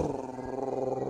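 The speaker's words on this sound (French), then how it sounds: "Chien, avant d'aboyer, il va groder d'abord." Dog growling low and continuously with a rough, rumbling tone, close and steady through the short moment.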